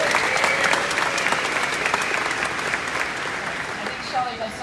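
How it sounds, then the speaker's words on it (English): Steady applause from an audience at a Harley-Davidson dealership event in Dallas–Fort Worth, dense and sustained throughout, with voices mixed into the clapping. "Give Shelley a round of applause."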